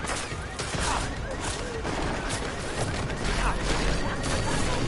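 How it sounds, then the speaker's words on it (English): Enemy gunfire in the video game Deus Ex: Mankind Divided, a dense, sustained volley of rapid shots with crashing impacts lasting throughout, loud and continuous. "here they go shooting at me for no reason"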